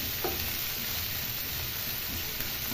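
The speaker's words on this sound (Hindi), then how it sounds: "3 से 4 मिनट तक इसको अच्छी तरीके से भूनेंगे ताकि मसाला अच्छी तरीके से मिक्स हो जाए प्याज और टमाटर में।" Ground masala fries with onion and tomato in a pan, a dense, constant hiss of sizzling with a few faint stirring taps, close and steady throughout with no talking.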